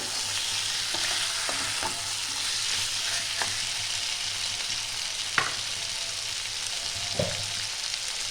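Chicken kanti with onions sizzles steadily in a pan while a spoon scrapes and knocks through it every second or two, close and moderately quiet with no voices.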